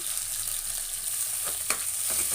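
Shallots and tomato sauté in a pan for a dried fish curry, giving a steady bright sizzle with a few soft stirring scrapes near the end.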